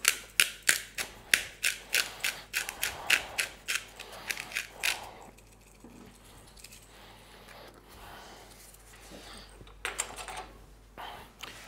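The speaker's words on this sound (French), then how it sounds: "j'y rajoute 2-3 tours de moulin à poivre" A hand pepper mill grinds black pepper over homemade fishing bait paste: a rapid run of about a dozen sharp, evenly spaced crunching clicks, close and fairly loud, then a quieter pause and a brief final burst of grinding.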